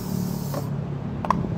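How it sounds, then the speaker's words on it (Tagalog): Koby protectant spray, lemon scent, hisses from its can in a short steady burst, then cuts off, followed by a couple of light clicks close by. "Mag-Kobe protectant spray ka na."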